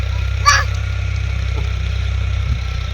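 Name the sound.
tractor engine running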